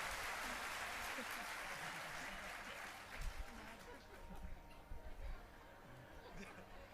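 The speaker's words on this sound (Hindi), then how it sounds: "भाई ताली बजा दीजिए" Applause from a seated audience at a Hindu religious discourse on Lord Ram, a broad wash of clapping that fades over several seconds with some crowd murmur and scattered laughter mixed in.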